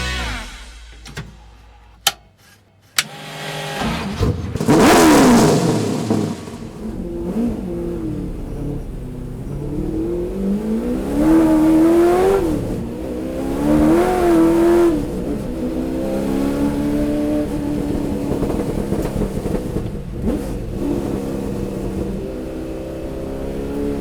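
A historic Ford Mustang race car, 1960s vintage, accelerates hard on a racetrack, its engine revving up through rising pitch sweeps across several gear changes, loud and close, with a few sharp clicks at the start.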